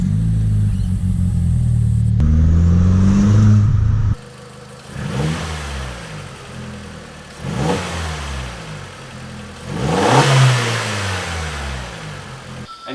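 A Volkswagen GTI turbo engine with its original airbox idles loudly, then is blipped in three or four rising revs that fall back between each, heard from close by.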